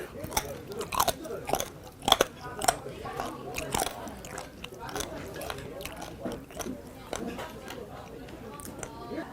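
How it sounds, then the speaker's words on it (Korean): Close-up crunching and biting, irregular sharp cracks as crunchy pork cartilage is chewed repeatedly, loud crunches at the start then softer chewing. "오돌뼈 씹는 소리"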